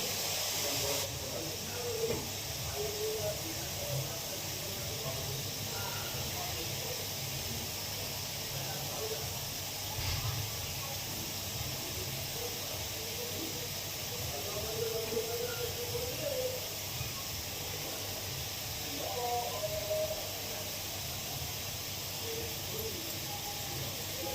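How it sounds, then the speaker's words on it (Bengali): Rasgulla balls simmering in boiling sugar syrup for homemade rasgulla, giving a steady, faint hiss and soft bubbling that runs unbroken and evenly throughout. "দেখেন আমার রস রেডি, আমি দিয়ে দিচ্ছি গোল্লাগুলো।"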